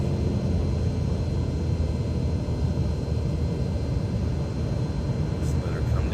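Steady, droning engine noise of a Trinidad TB21 light aircraft throttled back in the landing pattern at KMHT, a continuous broadband rumble heard from inside the cabin with no clear breaks.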